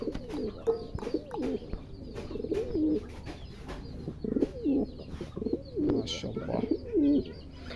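Male Dragon pigeons at a pigeon farm coo repeatedly, a series of soft rolling calls in a steady rhythm, close and moderately loud, with faint chirps and light background noise between phrases.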